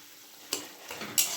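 A spoon scrapes through shredded cabbage as salt, turmeric, Kashmiri chilli powder and green chilli paste are mixed in, giving two or three quick, close stirring strokes.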